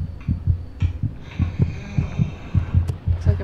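Heartbeat sound effect in the horror game Among the Sleep, a steady throbbing lub-dub pulse repeating low and loud over a quiet hum, with no talk.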